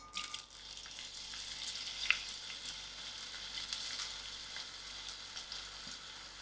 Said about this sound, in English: To my oil, I'm adding in my onions.